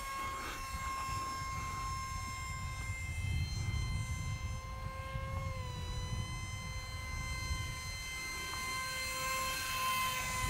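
A small F16 Falcon mini RC jet with a 365mm EPP foam airframe flies overhead, its electric motor giving a faint, steady high-pitched whine that shifts pitch slightly as it passes at a distance.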